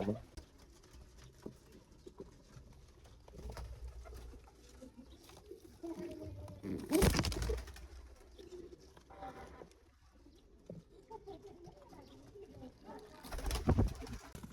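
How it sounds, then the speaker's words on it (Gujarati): Pigeons coo softly inside a coop of nesting boxes holding adult birds and chicks, with low murmuring calls and a couple of louder thumps or flutters against the boxes. "આમાં એક કલર કબૂતર બેઠું છે."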